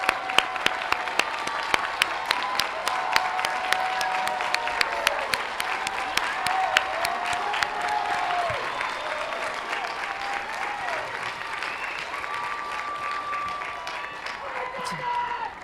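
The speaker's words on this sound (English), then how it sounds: "why don't you stand up so that the graduates can give you a well-deserved round of applause" A commencement crowd at a university arts ceremony applauds faculty and staff with sustained, steady clapping that holds for the whole stretch, without letup and without speech over it.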